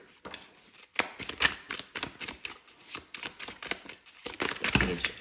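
Tarot cards being shuffled by hand for a reading, producing quiet, rapid riffling and papery flicks in irregular bursts, close and soft, without talk.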